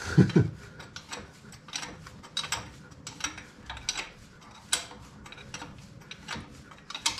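A gearbox drain plug on a Classic Mini is nipped up with a ratchet, giving a run of faint, close mechanical clicks and ticks in an irregular rhythm.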